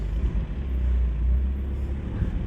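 Steady low rumble of a 1996 Mazda Proceed Marvie B2690 turbo diesel 4x4 pickup with a five-speed manual and a 2-inch lift kit, driving along at an even, moderate level with no talk.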